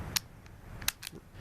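Hammer of a KWC airsoft Desert Eagle .50AE pistol clicking, three or four short sharp metallic clicks spaced apart, close and crisp over a quiet room.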